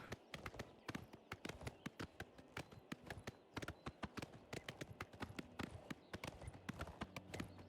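Horse hooves clip-clop in a steady, brisk rhythm while riding through open country in the video game Oblivion Remastered, the sharp hoofbeats fairly close and continuous with no talk over them.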